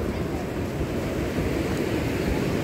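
Seaside waves wash and rumble in a steady roar, mixed with wind buffeting the microphone and no voices.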